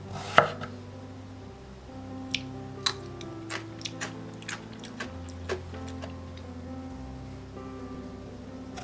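A knife chops old cucumber on a cutting board in a quiet kitchen, with a dozen crisp, separate knocks at an uneven pace, close and clear over a faint background hum.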